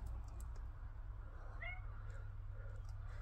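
A single faint cat meow, short and rising, over a steady low hum in a quiet room.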